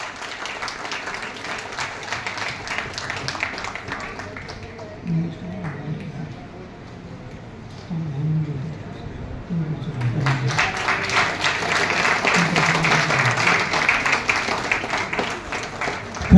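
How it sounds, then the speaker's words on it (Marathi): An audience at an award ceremony in Solapur bursts into sustained applause welcoming the recipient, with the clapping easing briefly while someone speaks over it and then swelling louder again. "जोरात टाळ्यांचं त्यांचं स्वागत करावं"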